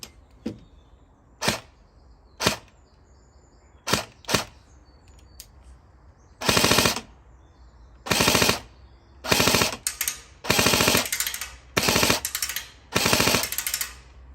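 A PTS Zev-Core Elite airsoft carbine fires loud, close shots, starting with scattered single cracks and moving into longer rapid bursts separated by short silences.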